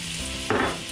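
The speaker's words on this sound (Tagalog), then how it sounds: "Maglalagay tayo ng konting butter. Tapos ilalagay na natin yung ating bawang." Garlic dropped into melted butter in a pan for pork asado, a steady close sizzle that bursts louder about halfway through the second as it hits the fat.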